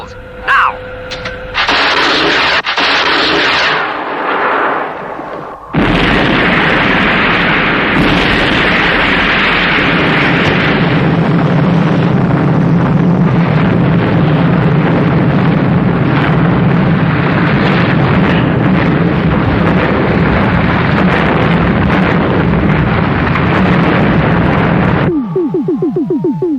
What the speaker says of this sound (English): Fire missiles. Now!